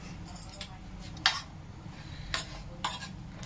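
Fennel seeds dry-roast in a heated pan, a low background hum broken by a few brief scraping, rattling stirs against the metal, spaced about a second apart.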